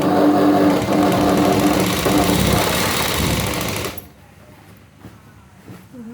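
A sewing machine stitches the narrowed hem of a sari petticoat, running with a fast, even, close whir for about four seconds before stopping abruptly into near quiet with a few faint handling sounds.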